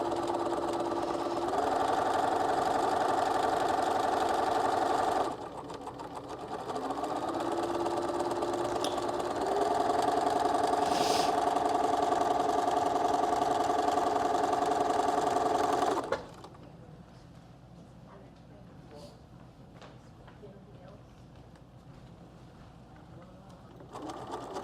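A sewing machine stitching quilt block seams runs in a steady mechanical whir, changing pitch midway, then stops abruptly and leaves a quiet room.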